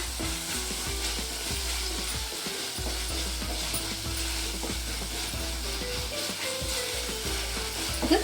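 Masala with a spoonful of tomato ketchup frying in a pan for a restaurant-style bottle gourd gravy: a steady, close sizzle with repeated scraping stir strokes throughout, and no talking.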